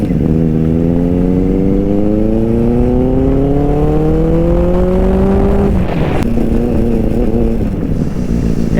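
A Benelli 600i motorcycle engine on the road, loud and close, revving steadily upward in pitch for several seconds. It drops sharply at a gear change, then pulls on again with a continuous drone and no voices.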